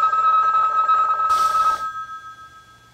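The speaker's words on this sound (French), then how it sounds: "Téléphone, décroche." A telephone in the 1967 film Le Samouraï rings with a loud, sustained electric bell tone. A short burst of rattling sounds near the end of the ring, and then the bell cuts off, leaving a faint low hum.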